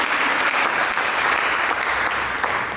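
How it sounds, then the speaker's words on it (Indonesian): Church congregation applauds for Jesus Christ during a sermon, a dense, even wash of many clapping hands filling the room, loud and sustained with no voice over it. "Berikan tepuk tangan bagi Yesus Kristus."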